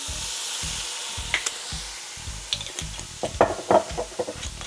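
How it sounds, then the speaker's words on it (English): Chinese Shaoxing cooking wine, about a tablespoon, hits a hot pan and sizzles steadily, with a spoon scraping and stirring in rhythmic strokes and a few sharper clinks near the end. "Then we're gonna add in some Chinese cooking wine."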